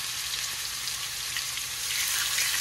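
Chicken fries in olive oil for chicken fried cauliflower rice, giving a steady, close, even sizzle that does not let up.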